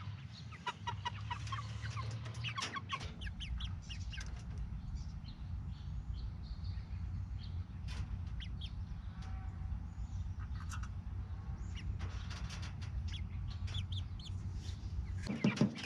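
Chickens cluck steadily outdoors, a continuous flock chatter over low rumbling background noise, with occasional sharper calls standing out throughout.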